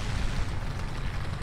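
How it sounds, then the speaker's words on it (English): A bomb going off in a shooter game, a dense, sustained low rumbling boom lasting the whole moment with no talk over it. "Oh, he dropped the bomb."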